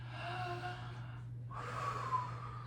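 A group of students in a class breathes together in unison, long audible exhales and gasping breaths close by, with a steady low hum underneath.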